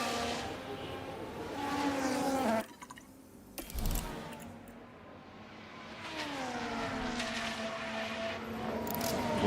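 Formula One race car engines in the F1 Manager 2013 game at Bahrain roar loudly and steadily, with a brief drop as one passes before the high, shifting engine pitch returns.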